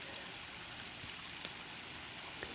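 Steady splashing of waterfalls cascading down stepped levels on a slope in a backyard pond garden, a soft continuous wash of falling water with faint droplet flecks, heard alone at a moderate distance.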